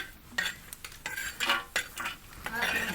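Roasted grated coconut scraped off a hot iron griddle with a metal utensil, giving a run of scraping and clinking strokes at close range, with no talk.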